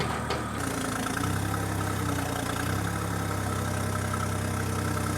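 A compact John Deere 1025R tractor with a front loader sits at idle, its engine giving a steady, loud, continuous low rumble up close, with no talking over it.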